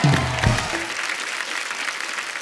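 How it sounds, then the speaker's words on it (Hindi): A studio audience at The Kapil Sharma Show, a comedy talk show, bursts into loud, sustained applause that starts after a brief snatch of music and voice and then fills the rest of the moment evenly. "एक बार जोरदार ताली हो जाए"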